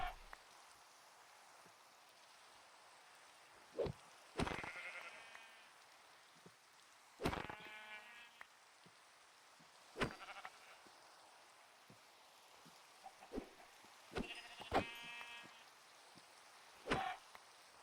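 Several sheep bleat one at a time at irregular intervals over soft, steady rain, some cries nearer and louder than others, in a modded survival video game.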